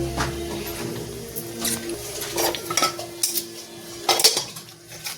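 Pots, pans and cutlery clank and scrape while being scrubbed in a household kitchen, irregular metallic knocks and rattles close by, coming in bursts over a faint background hum.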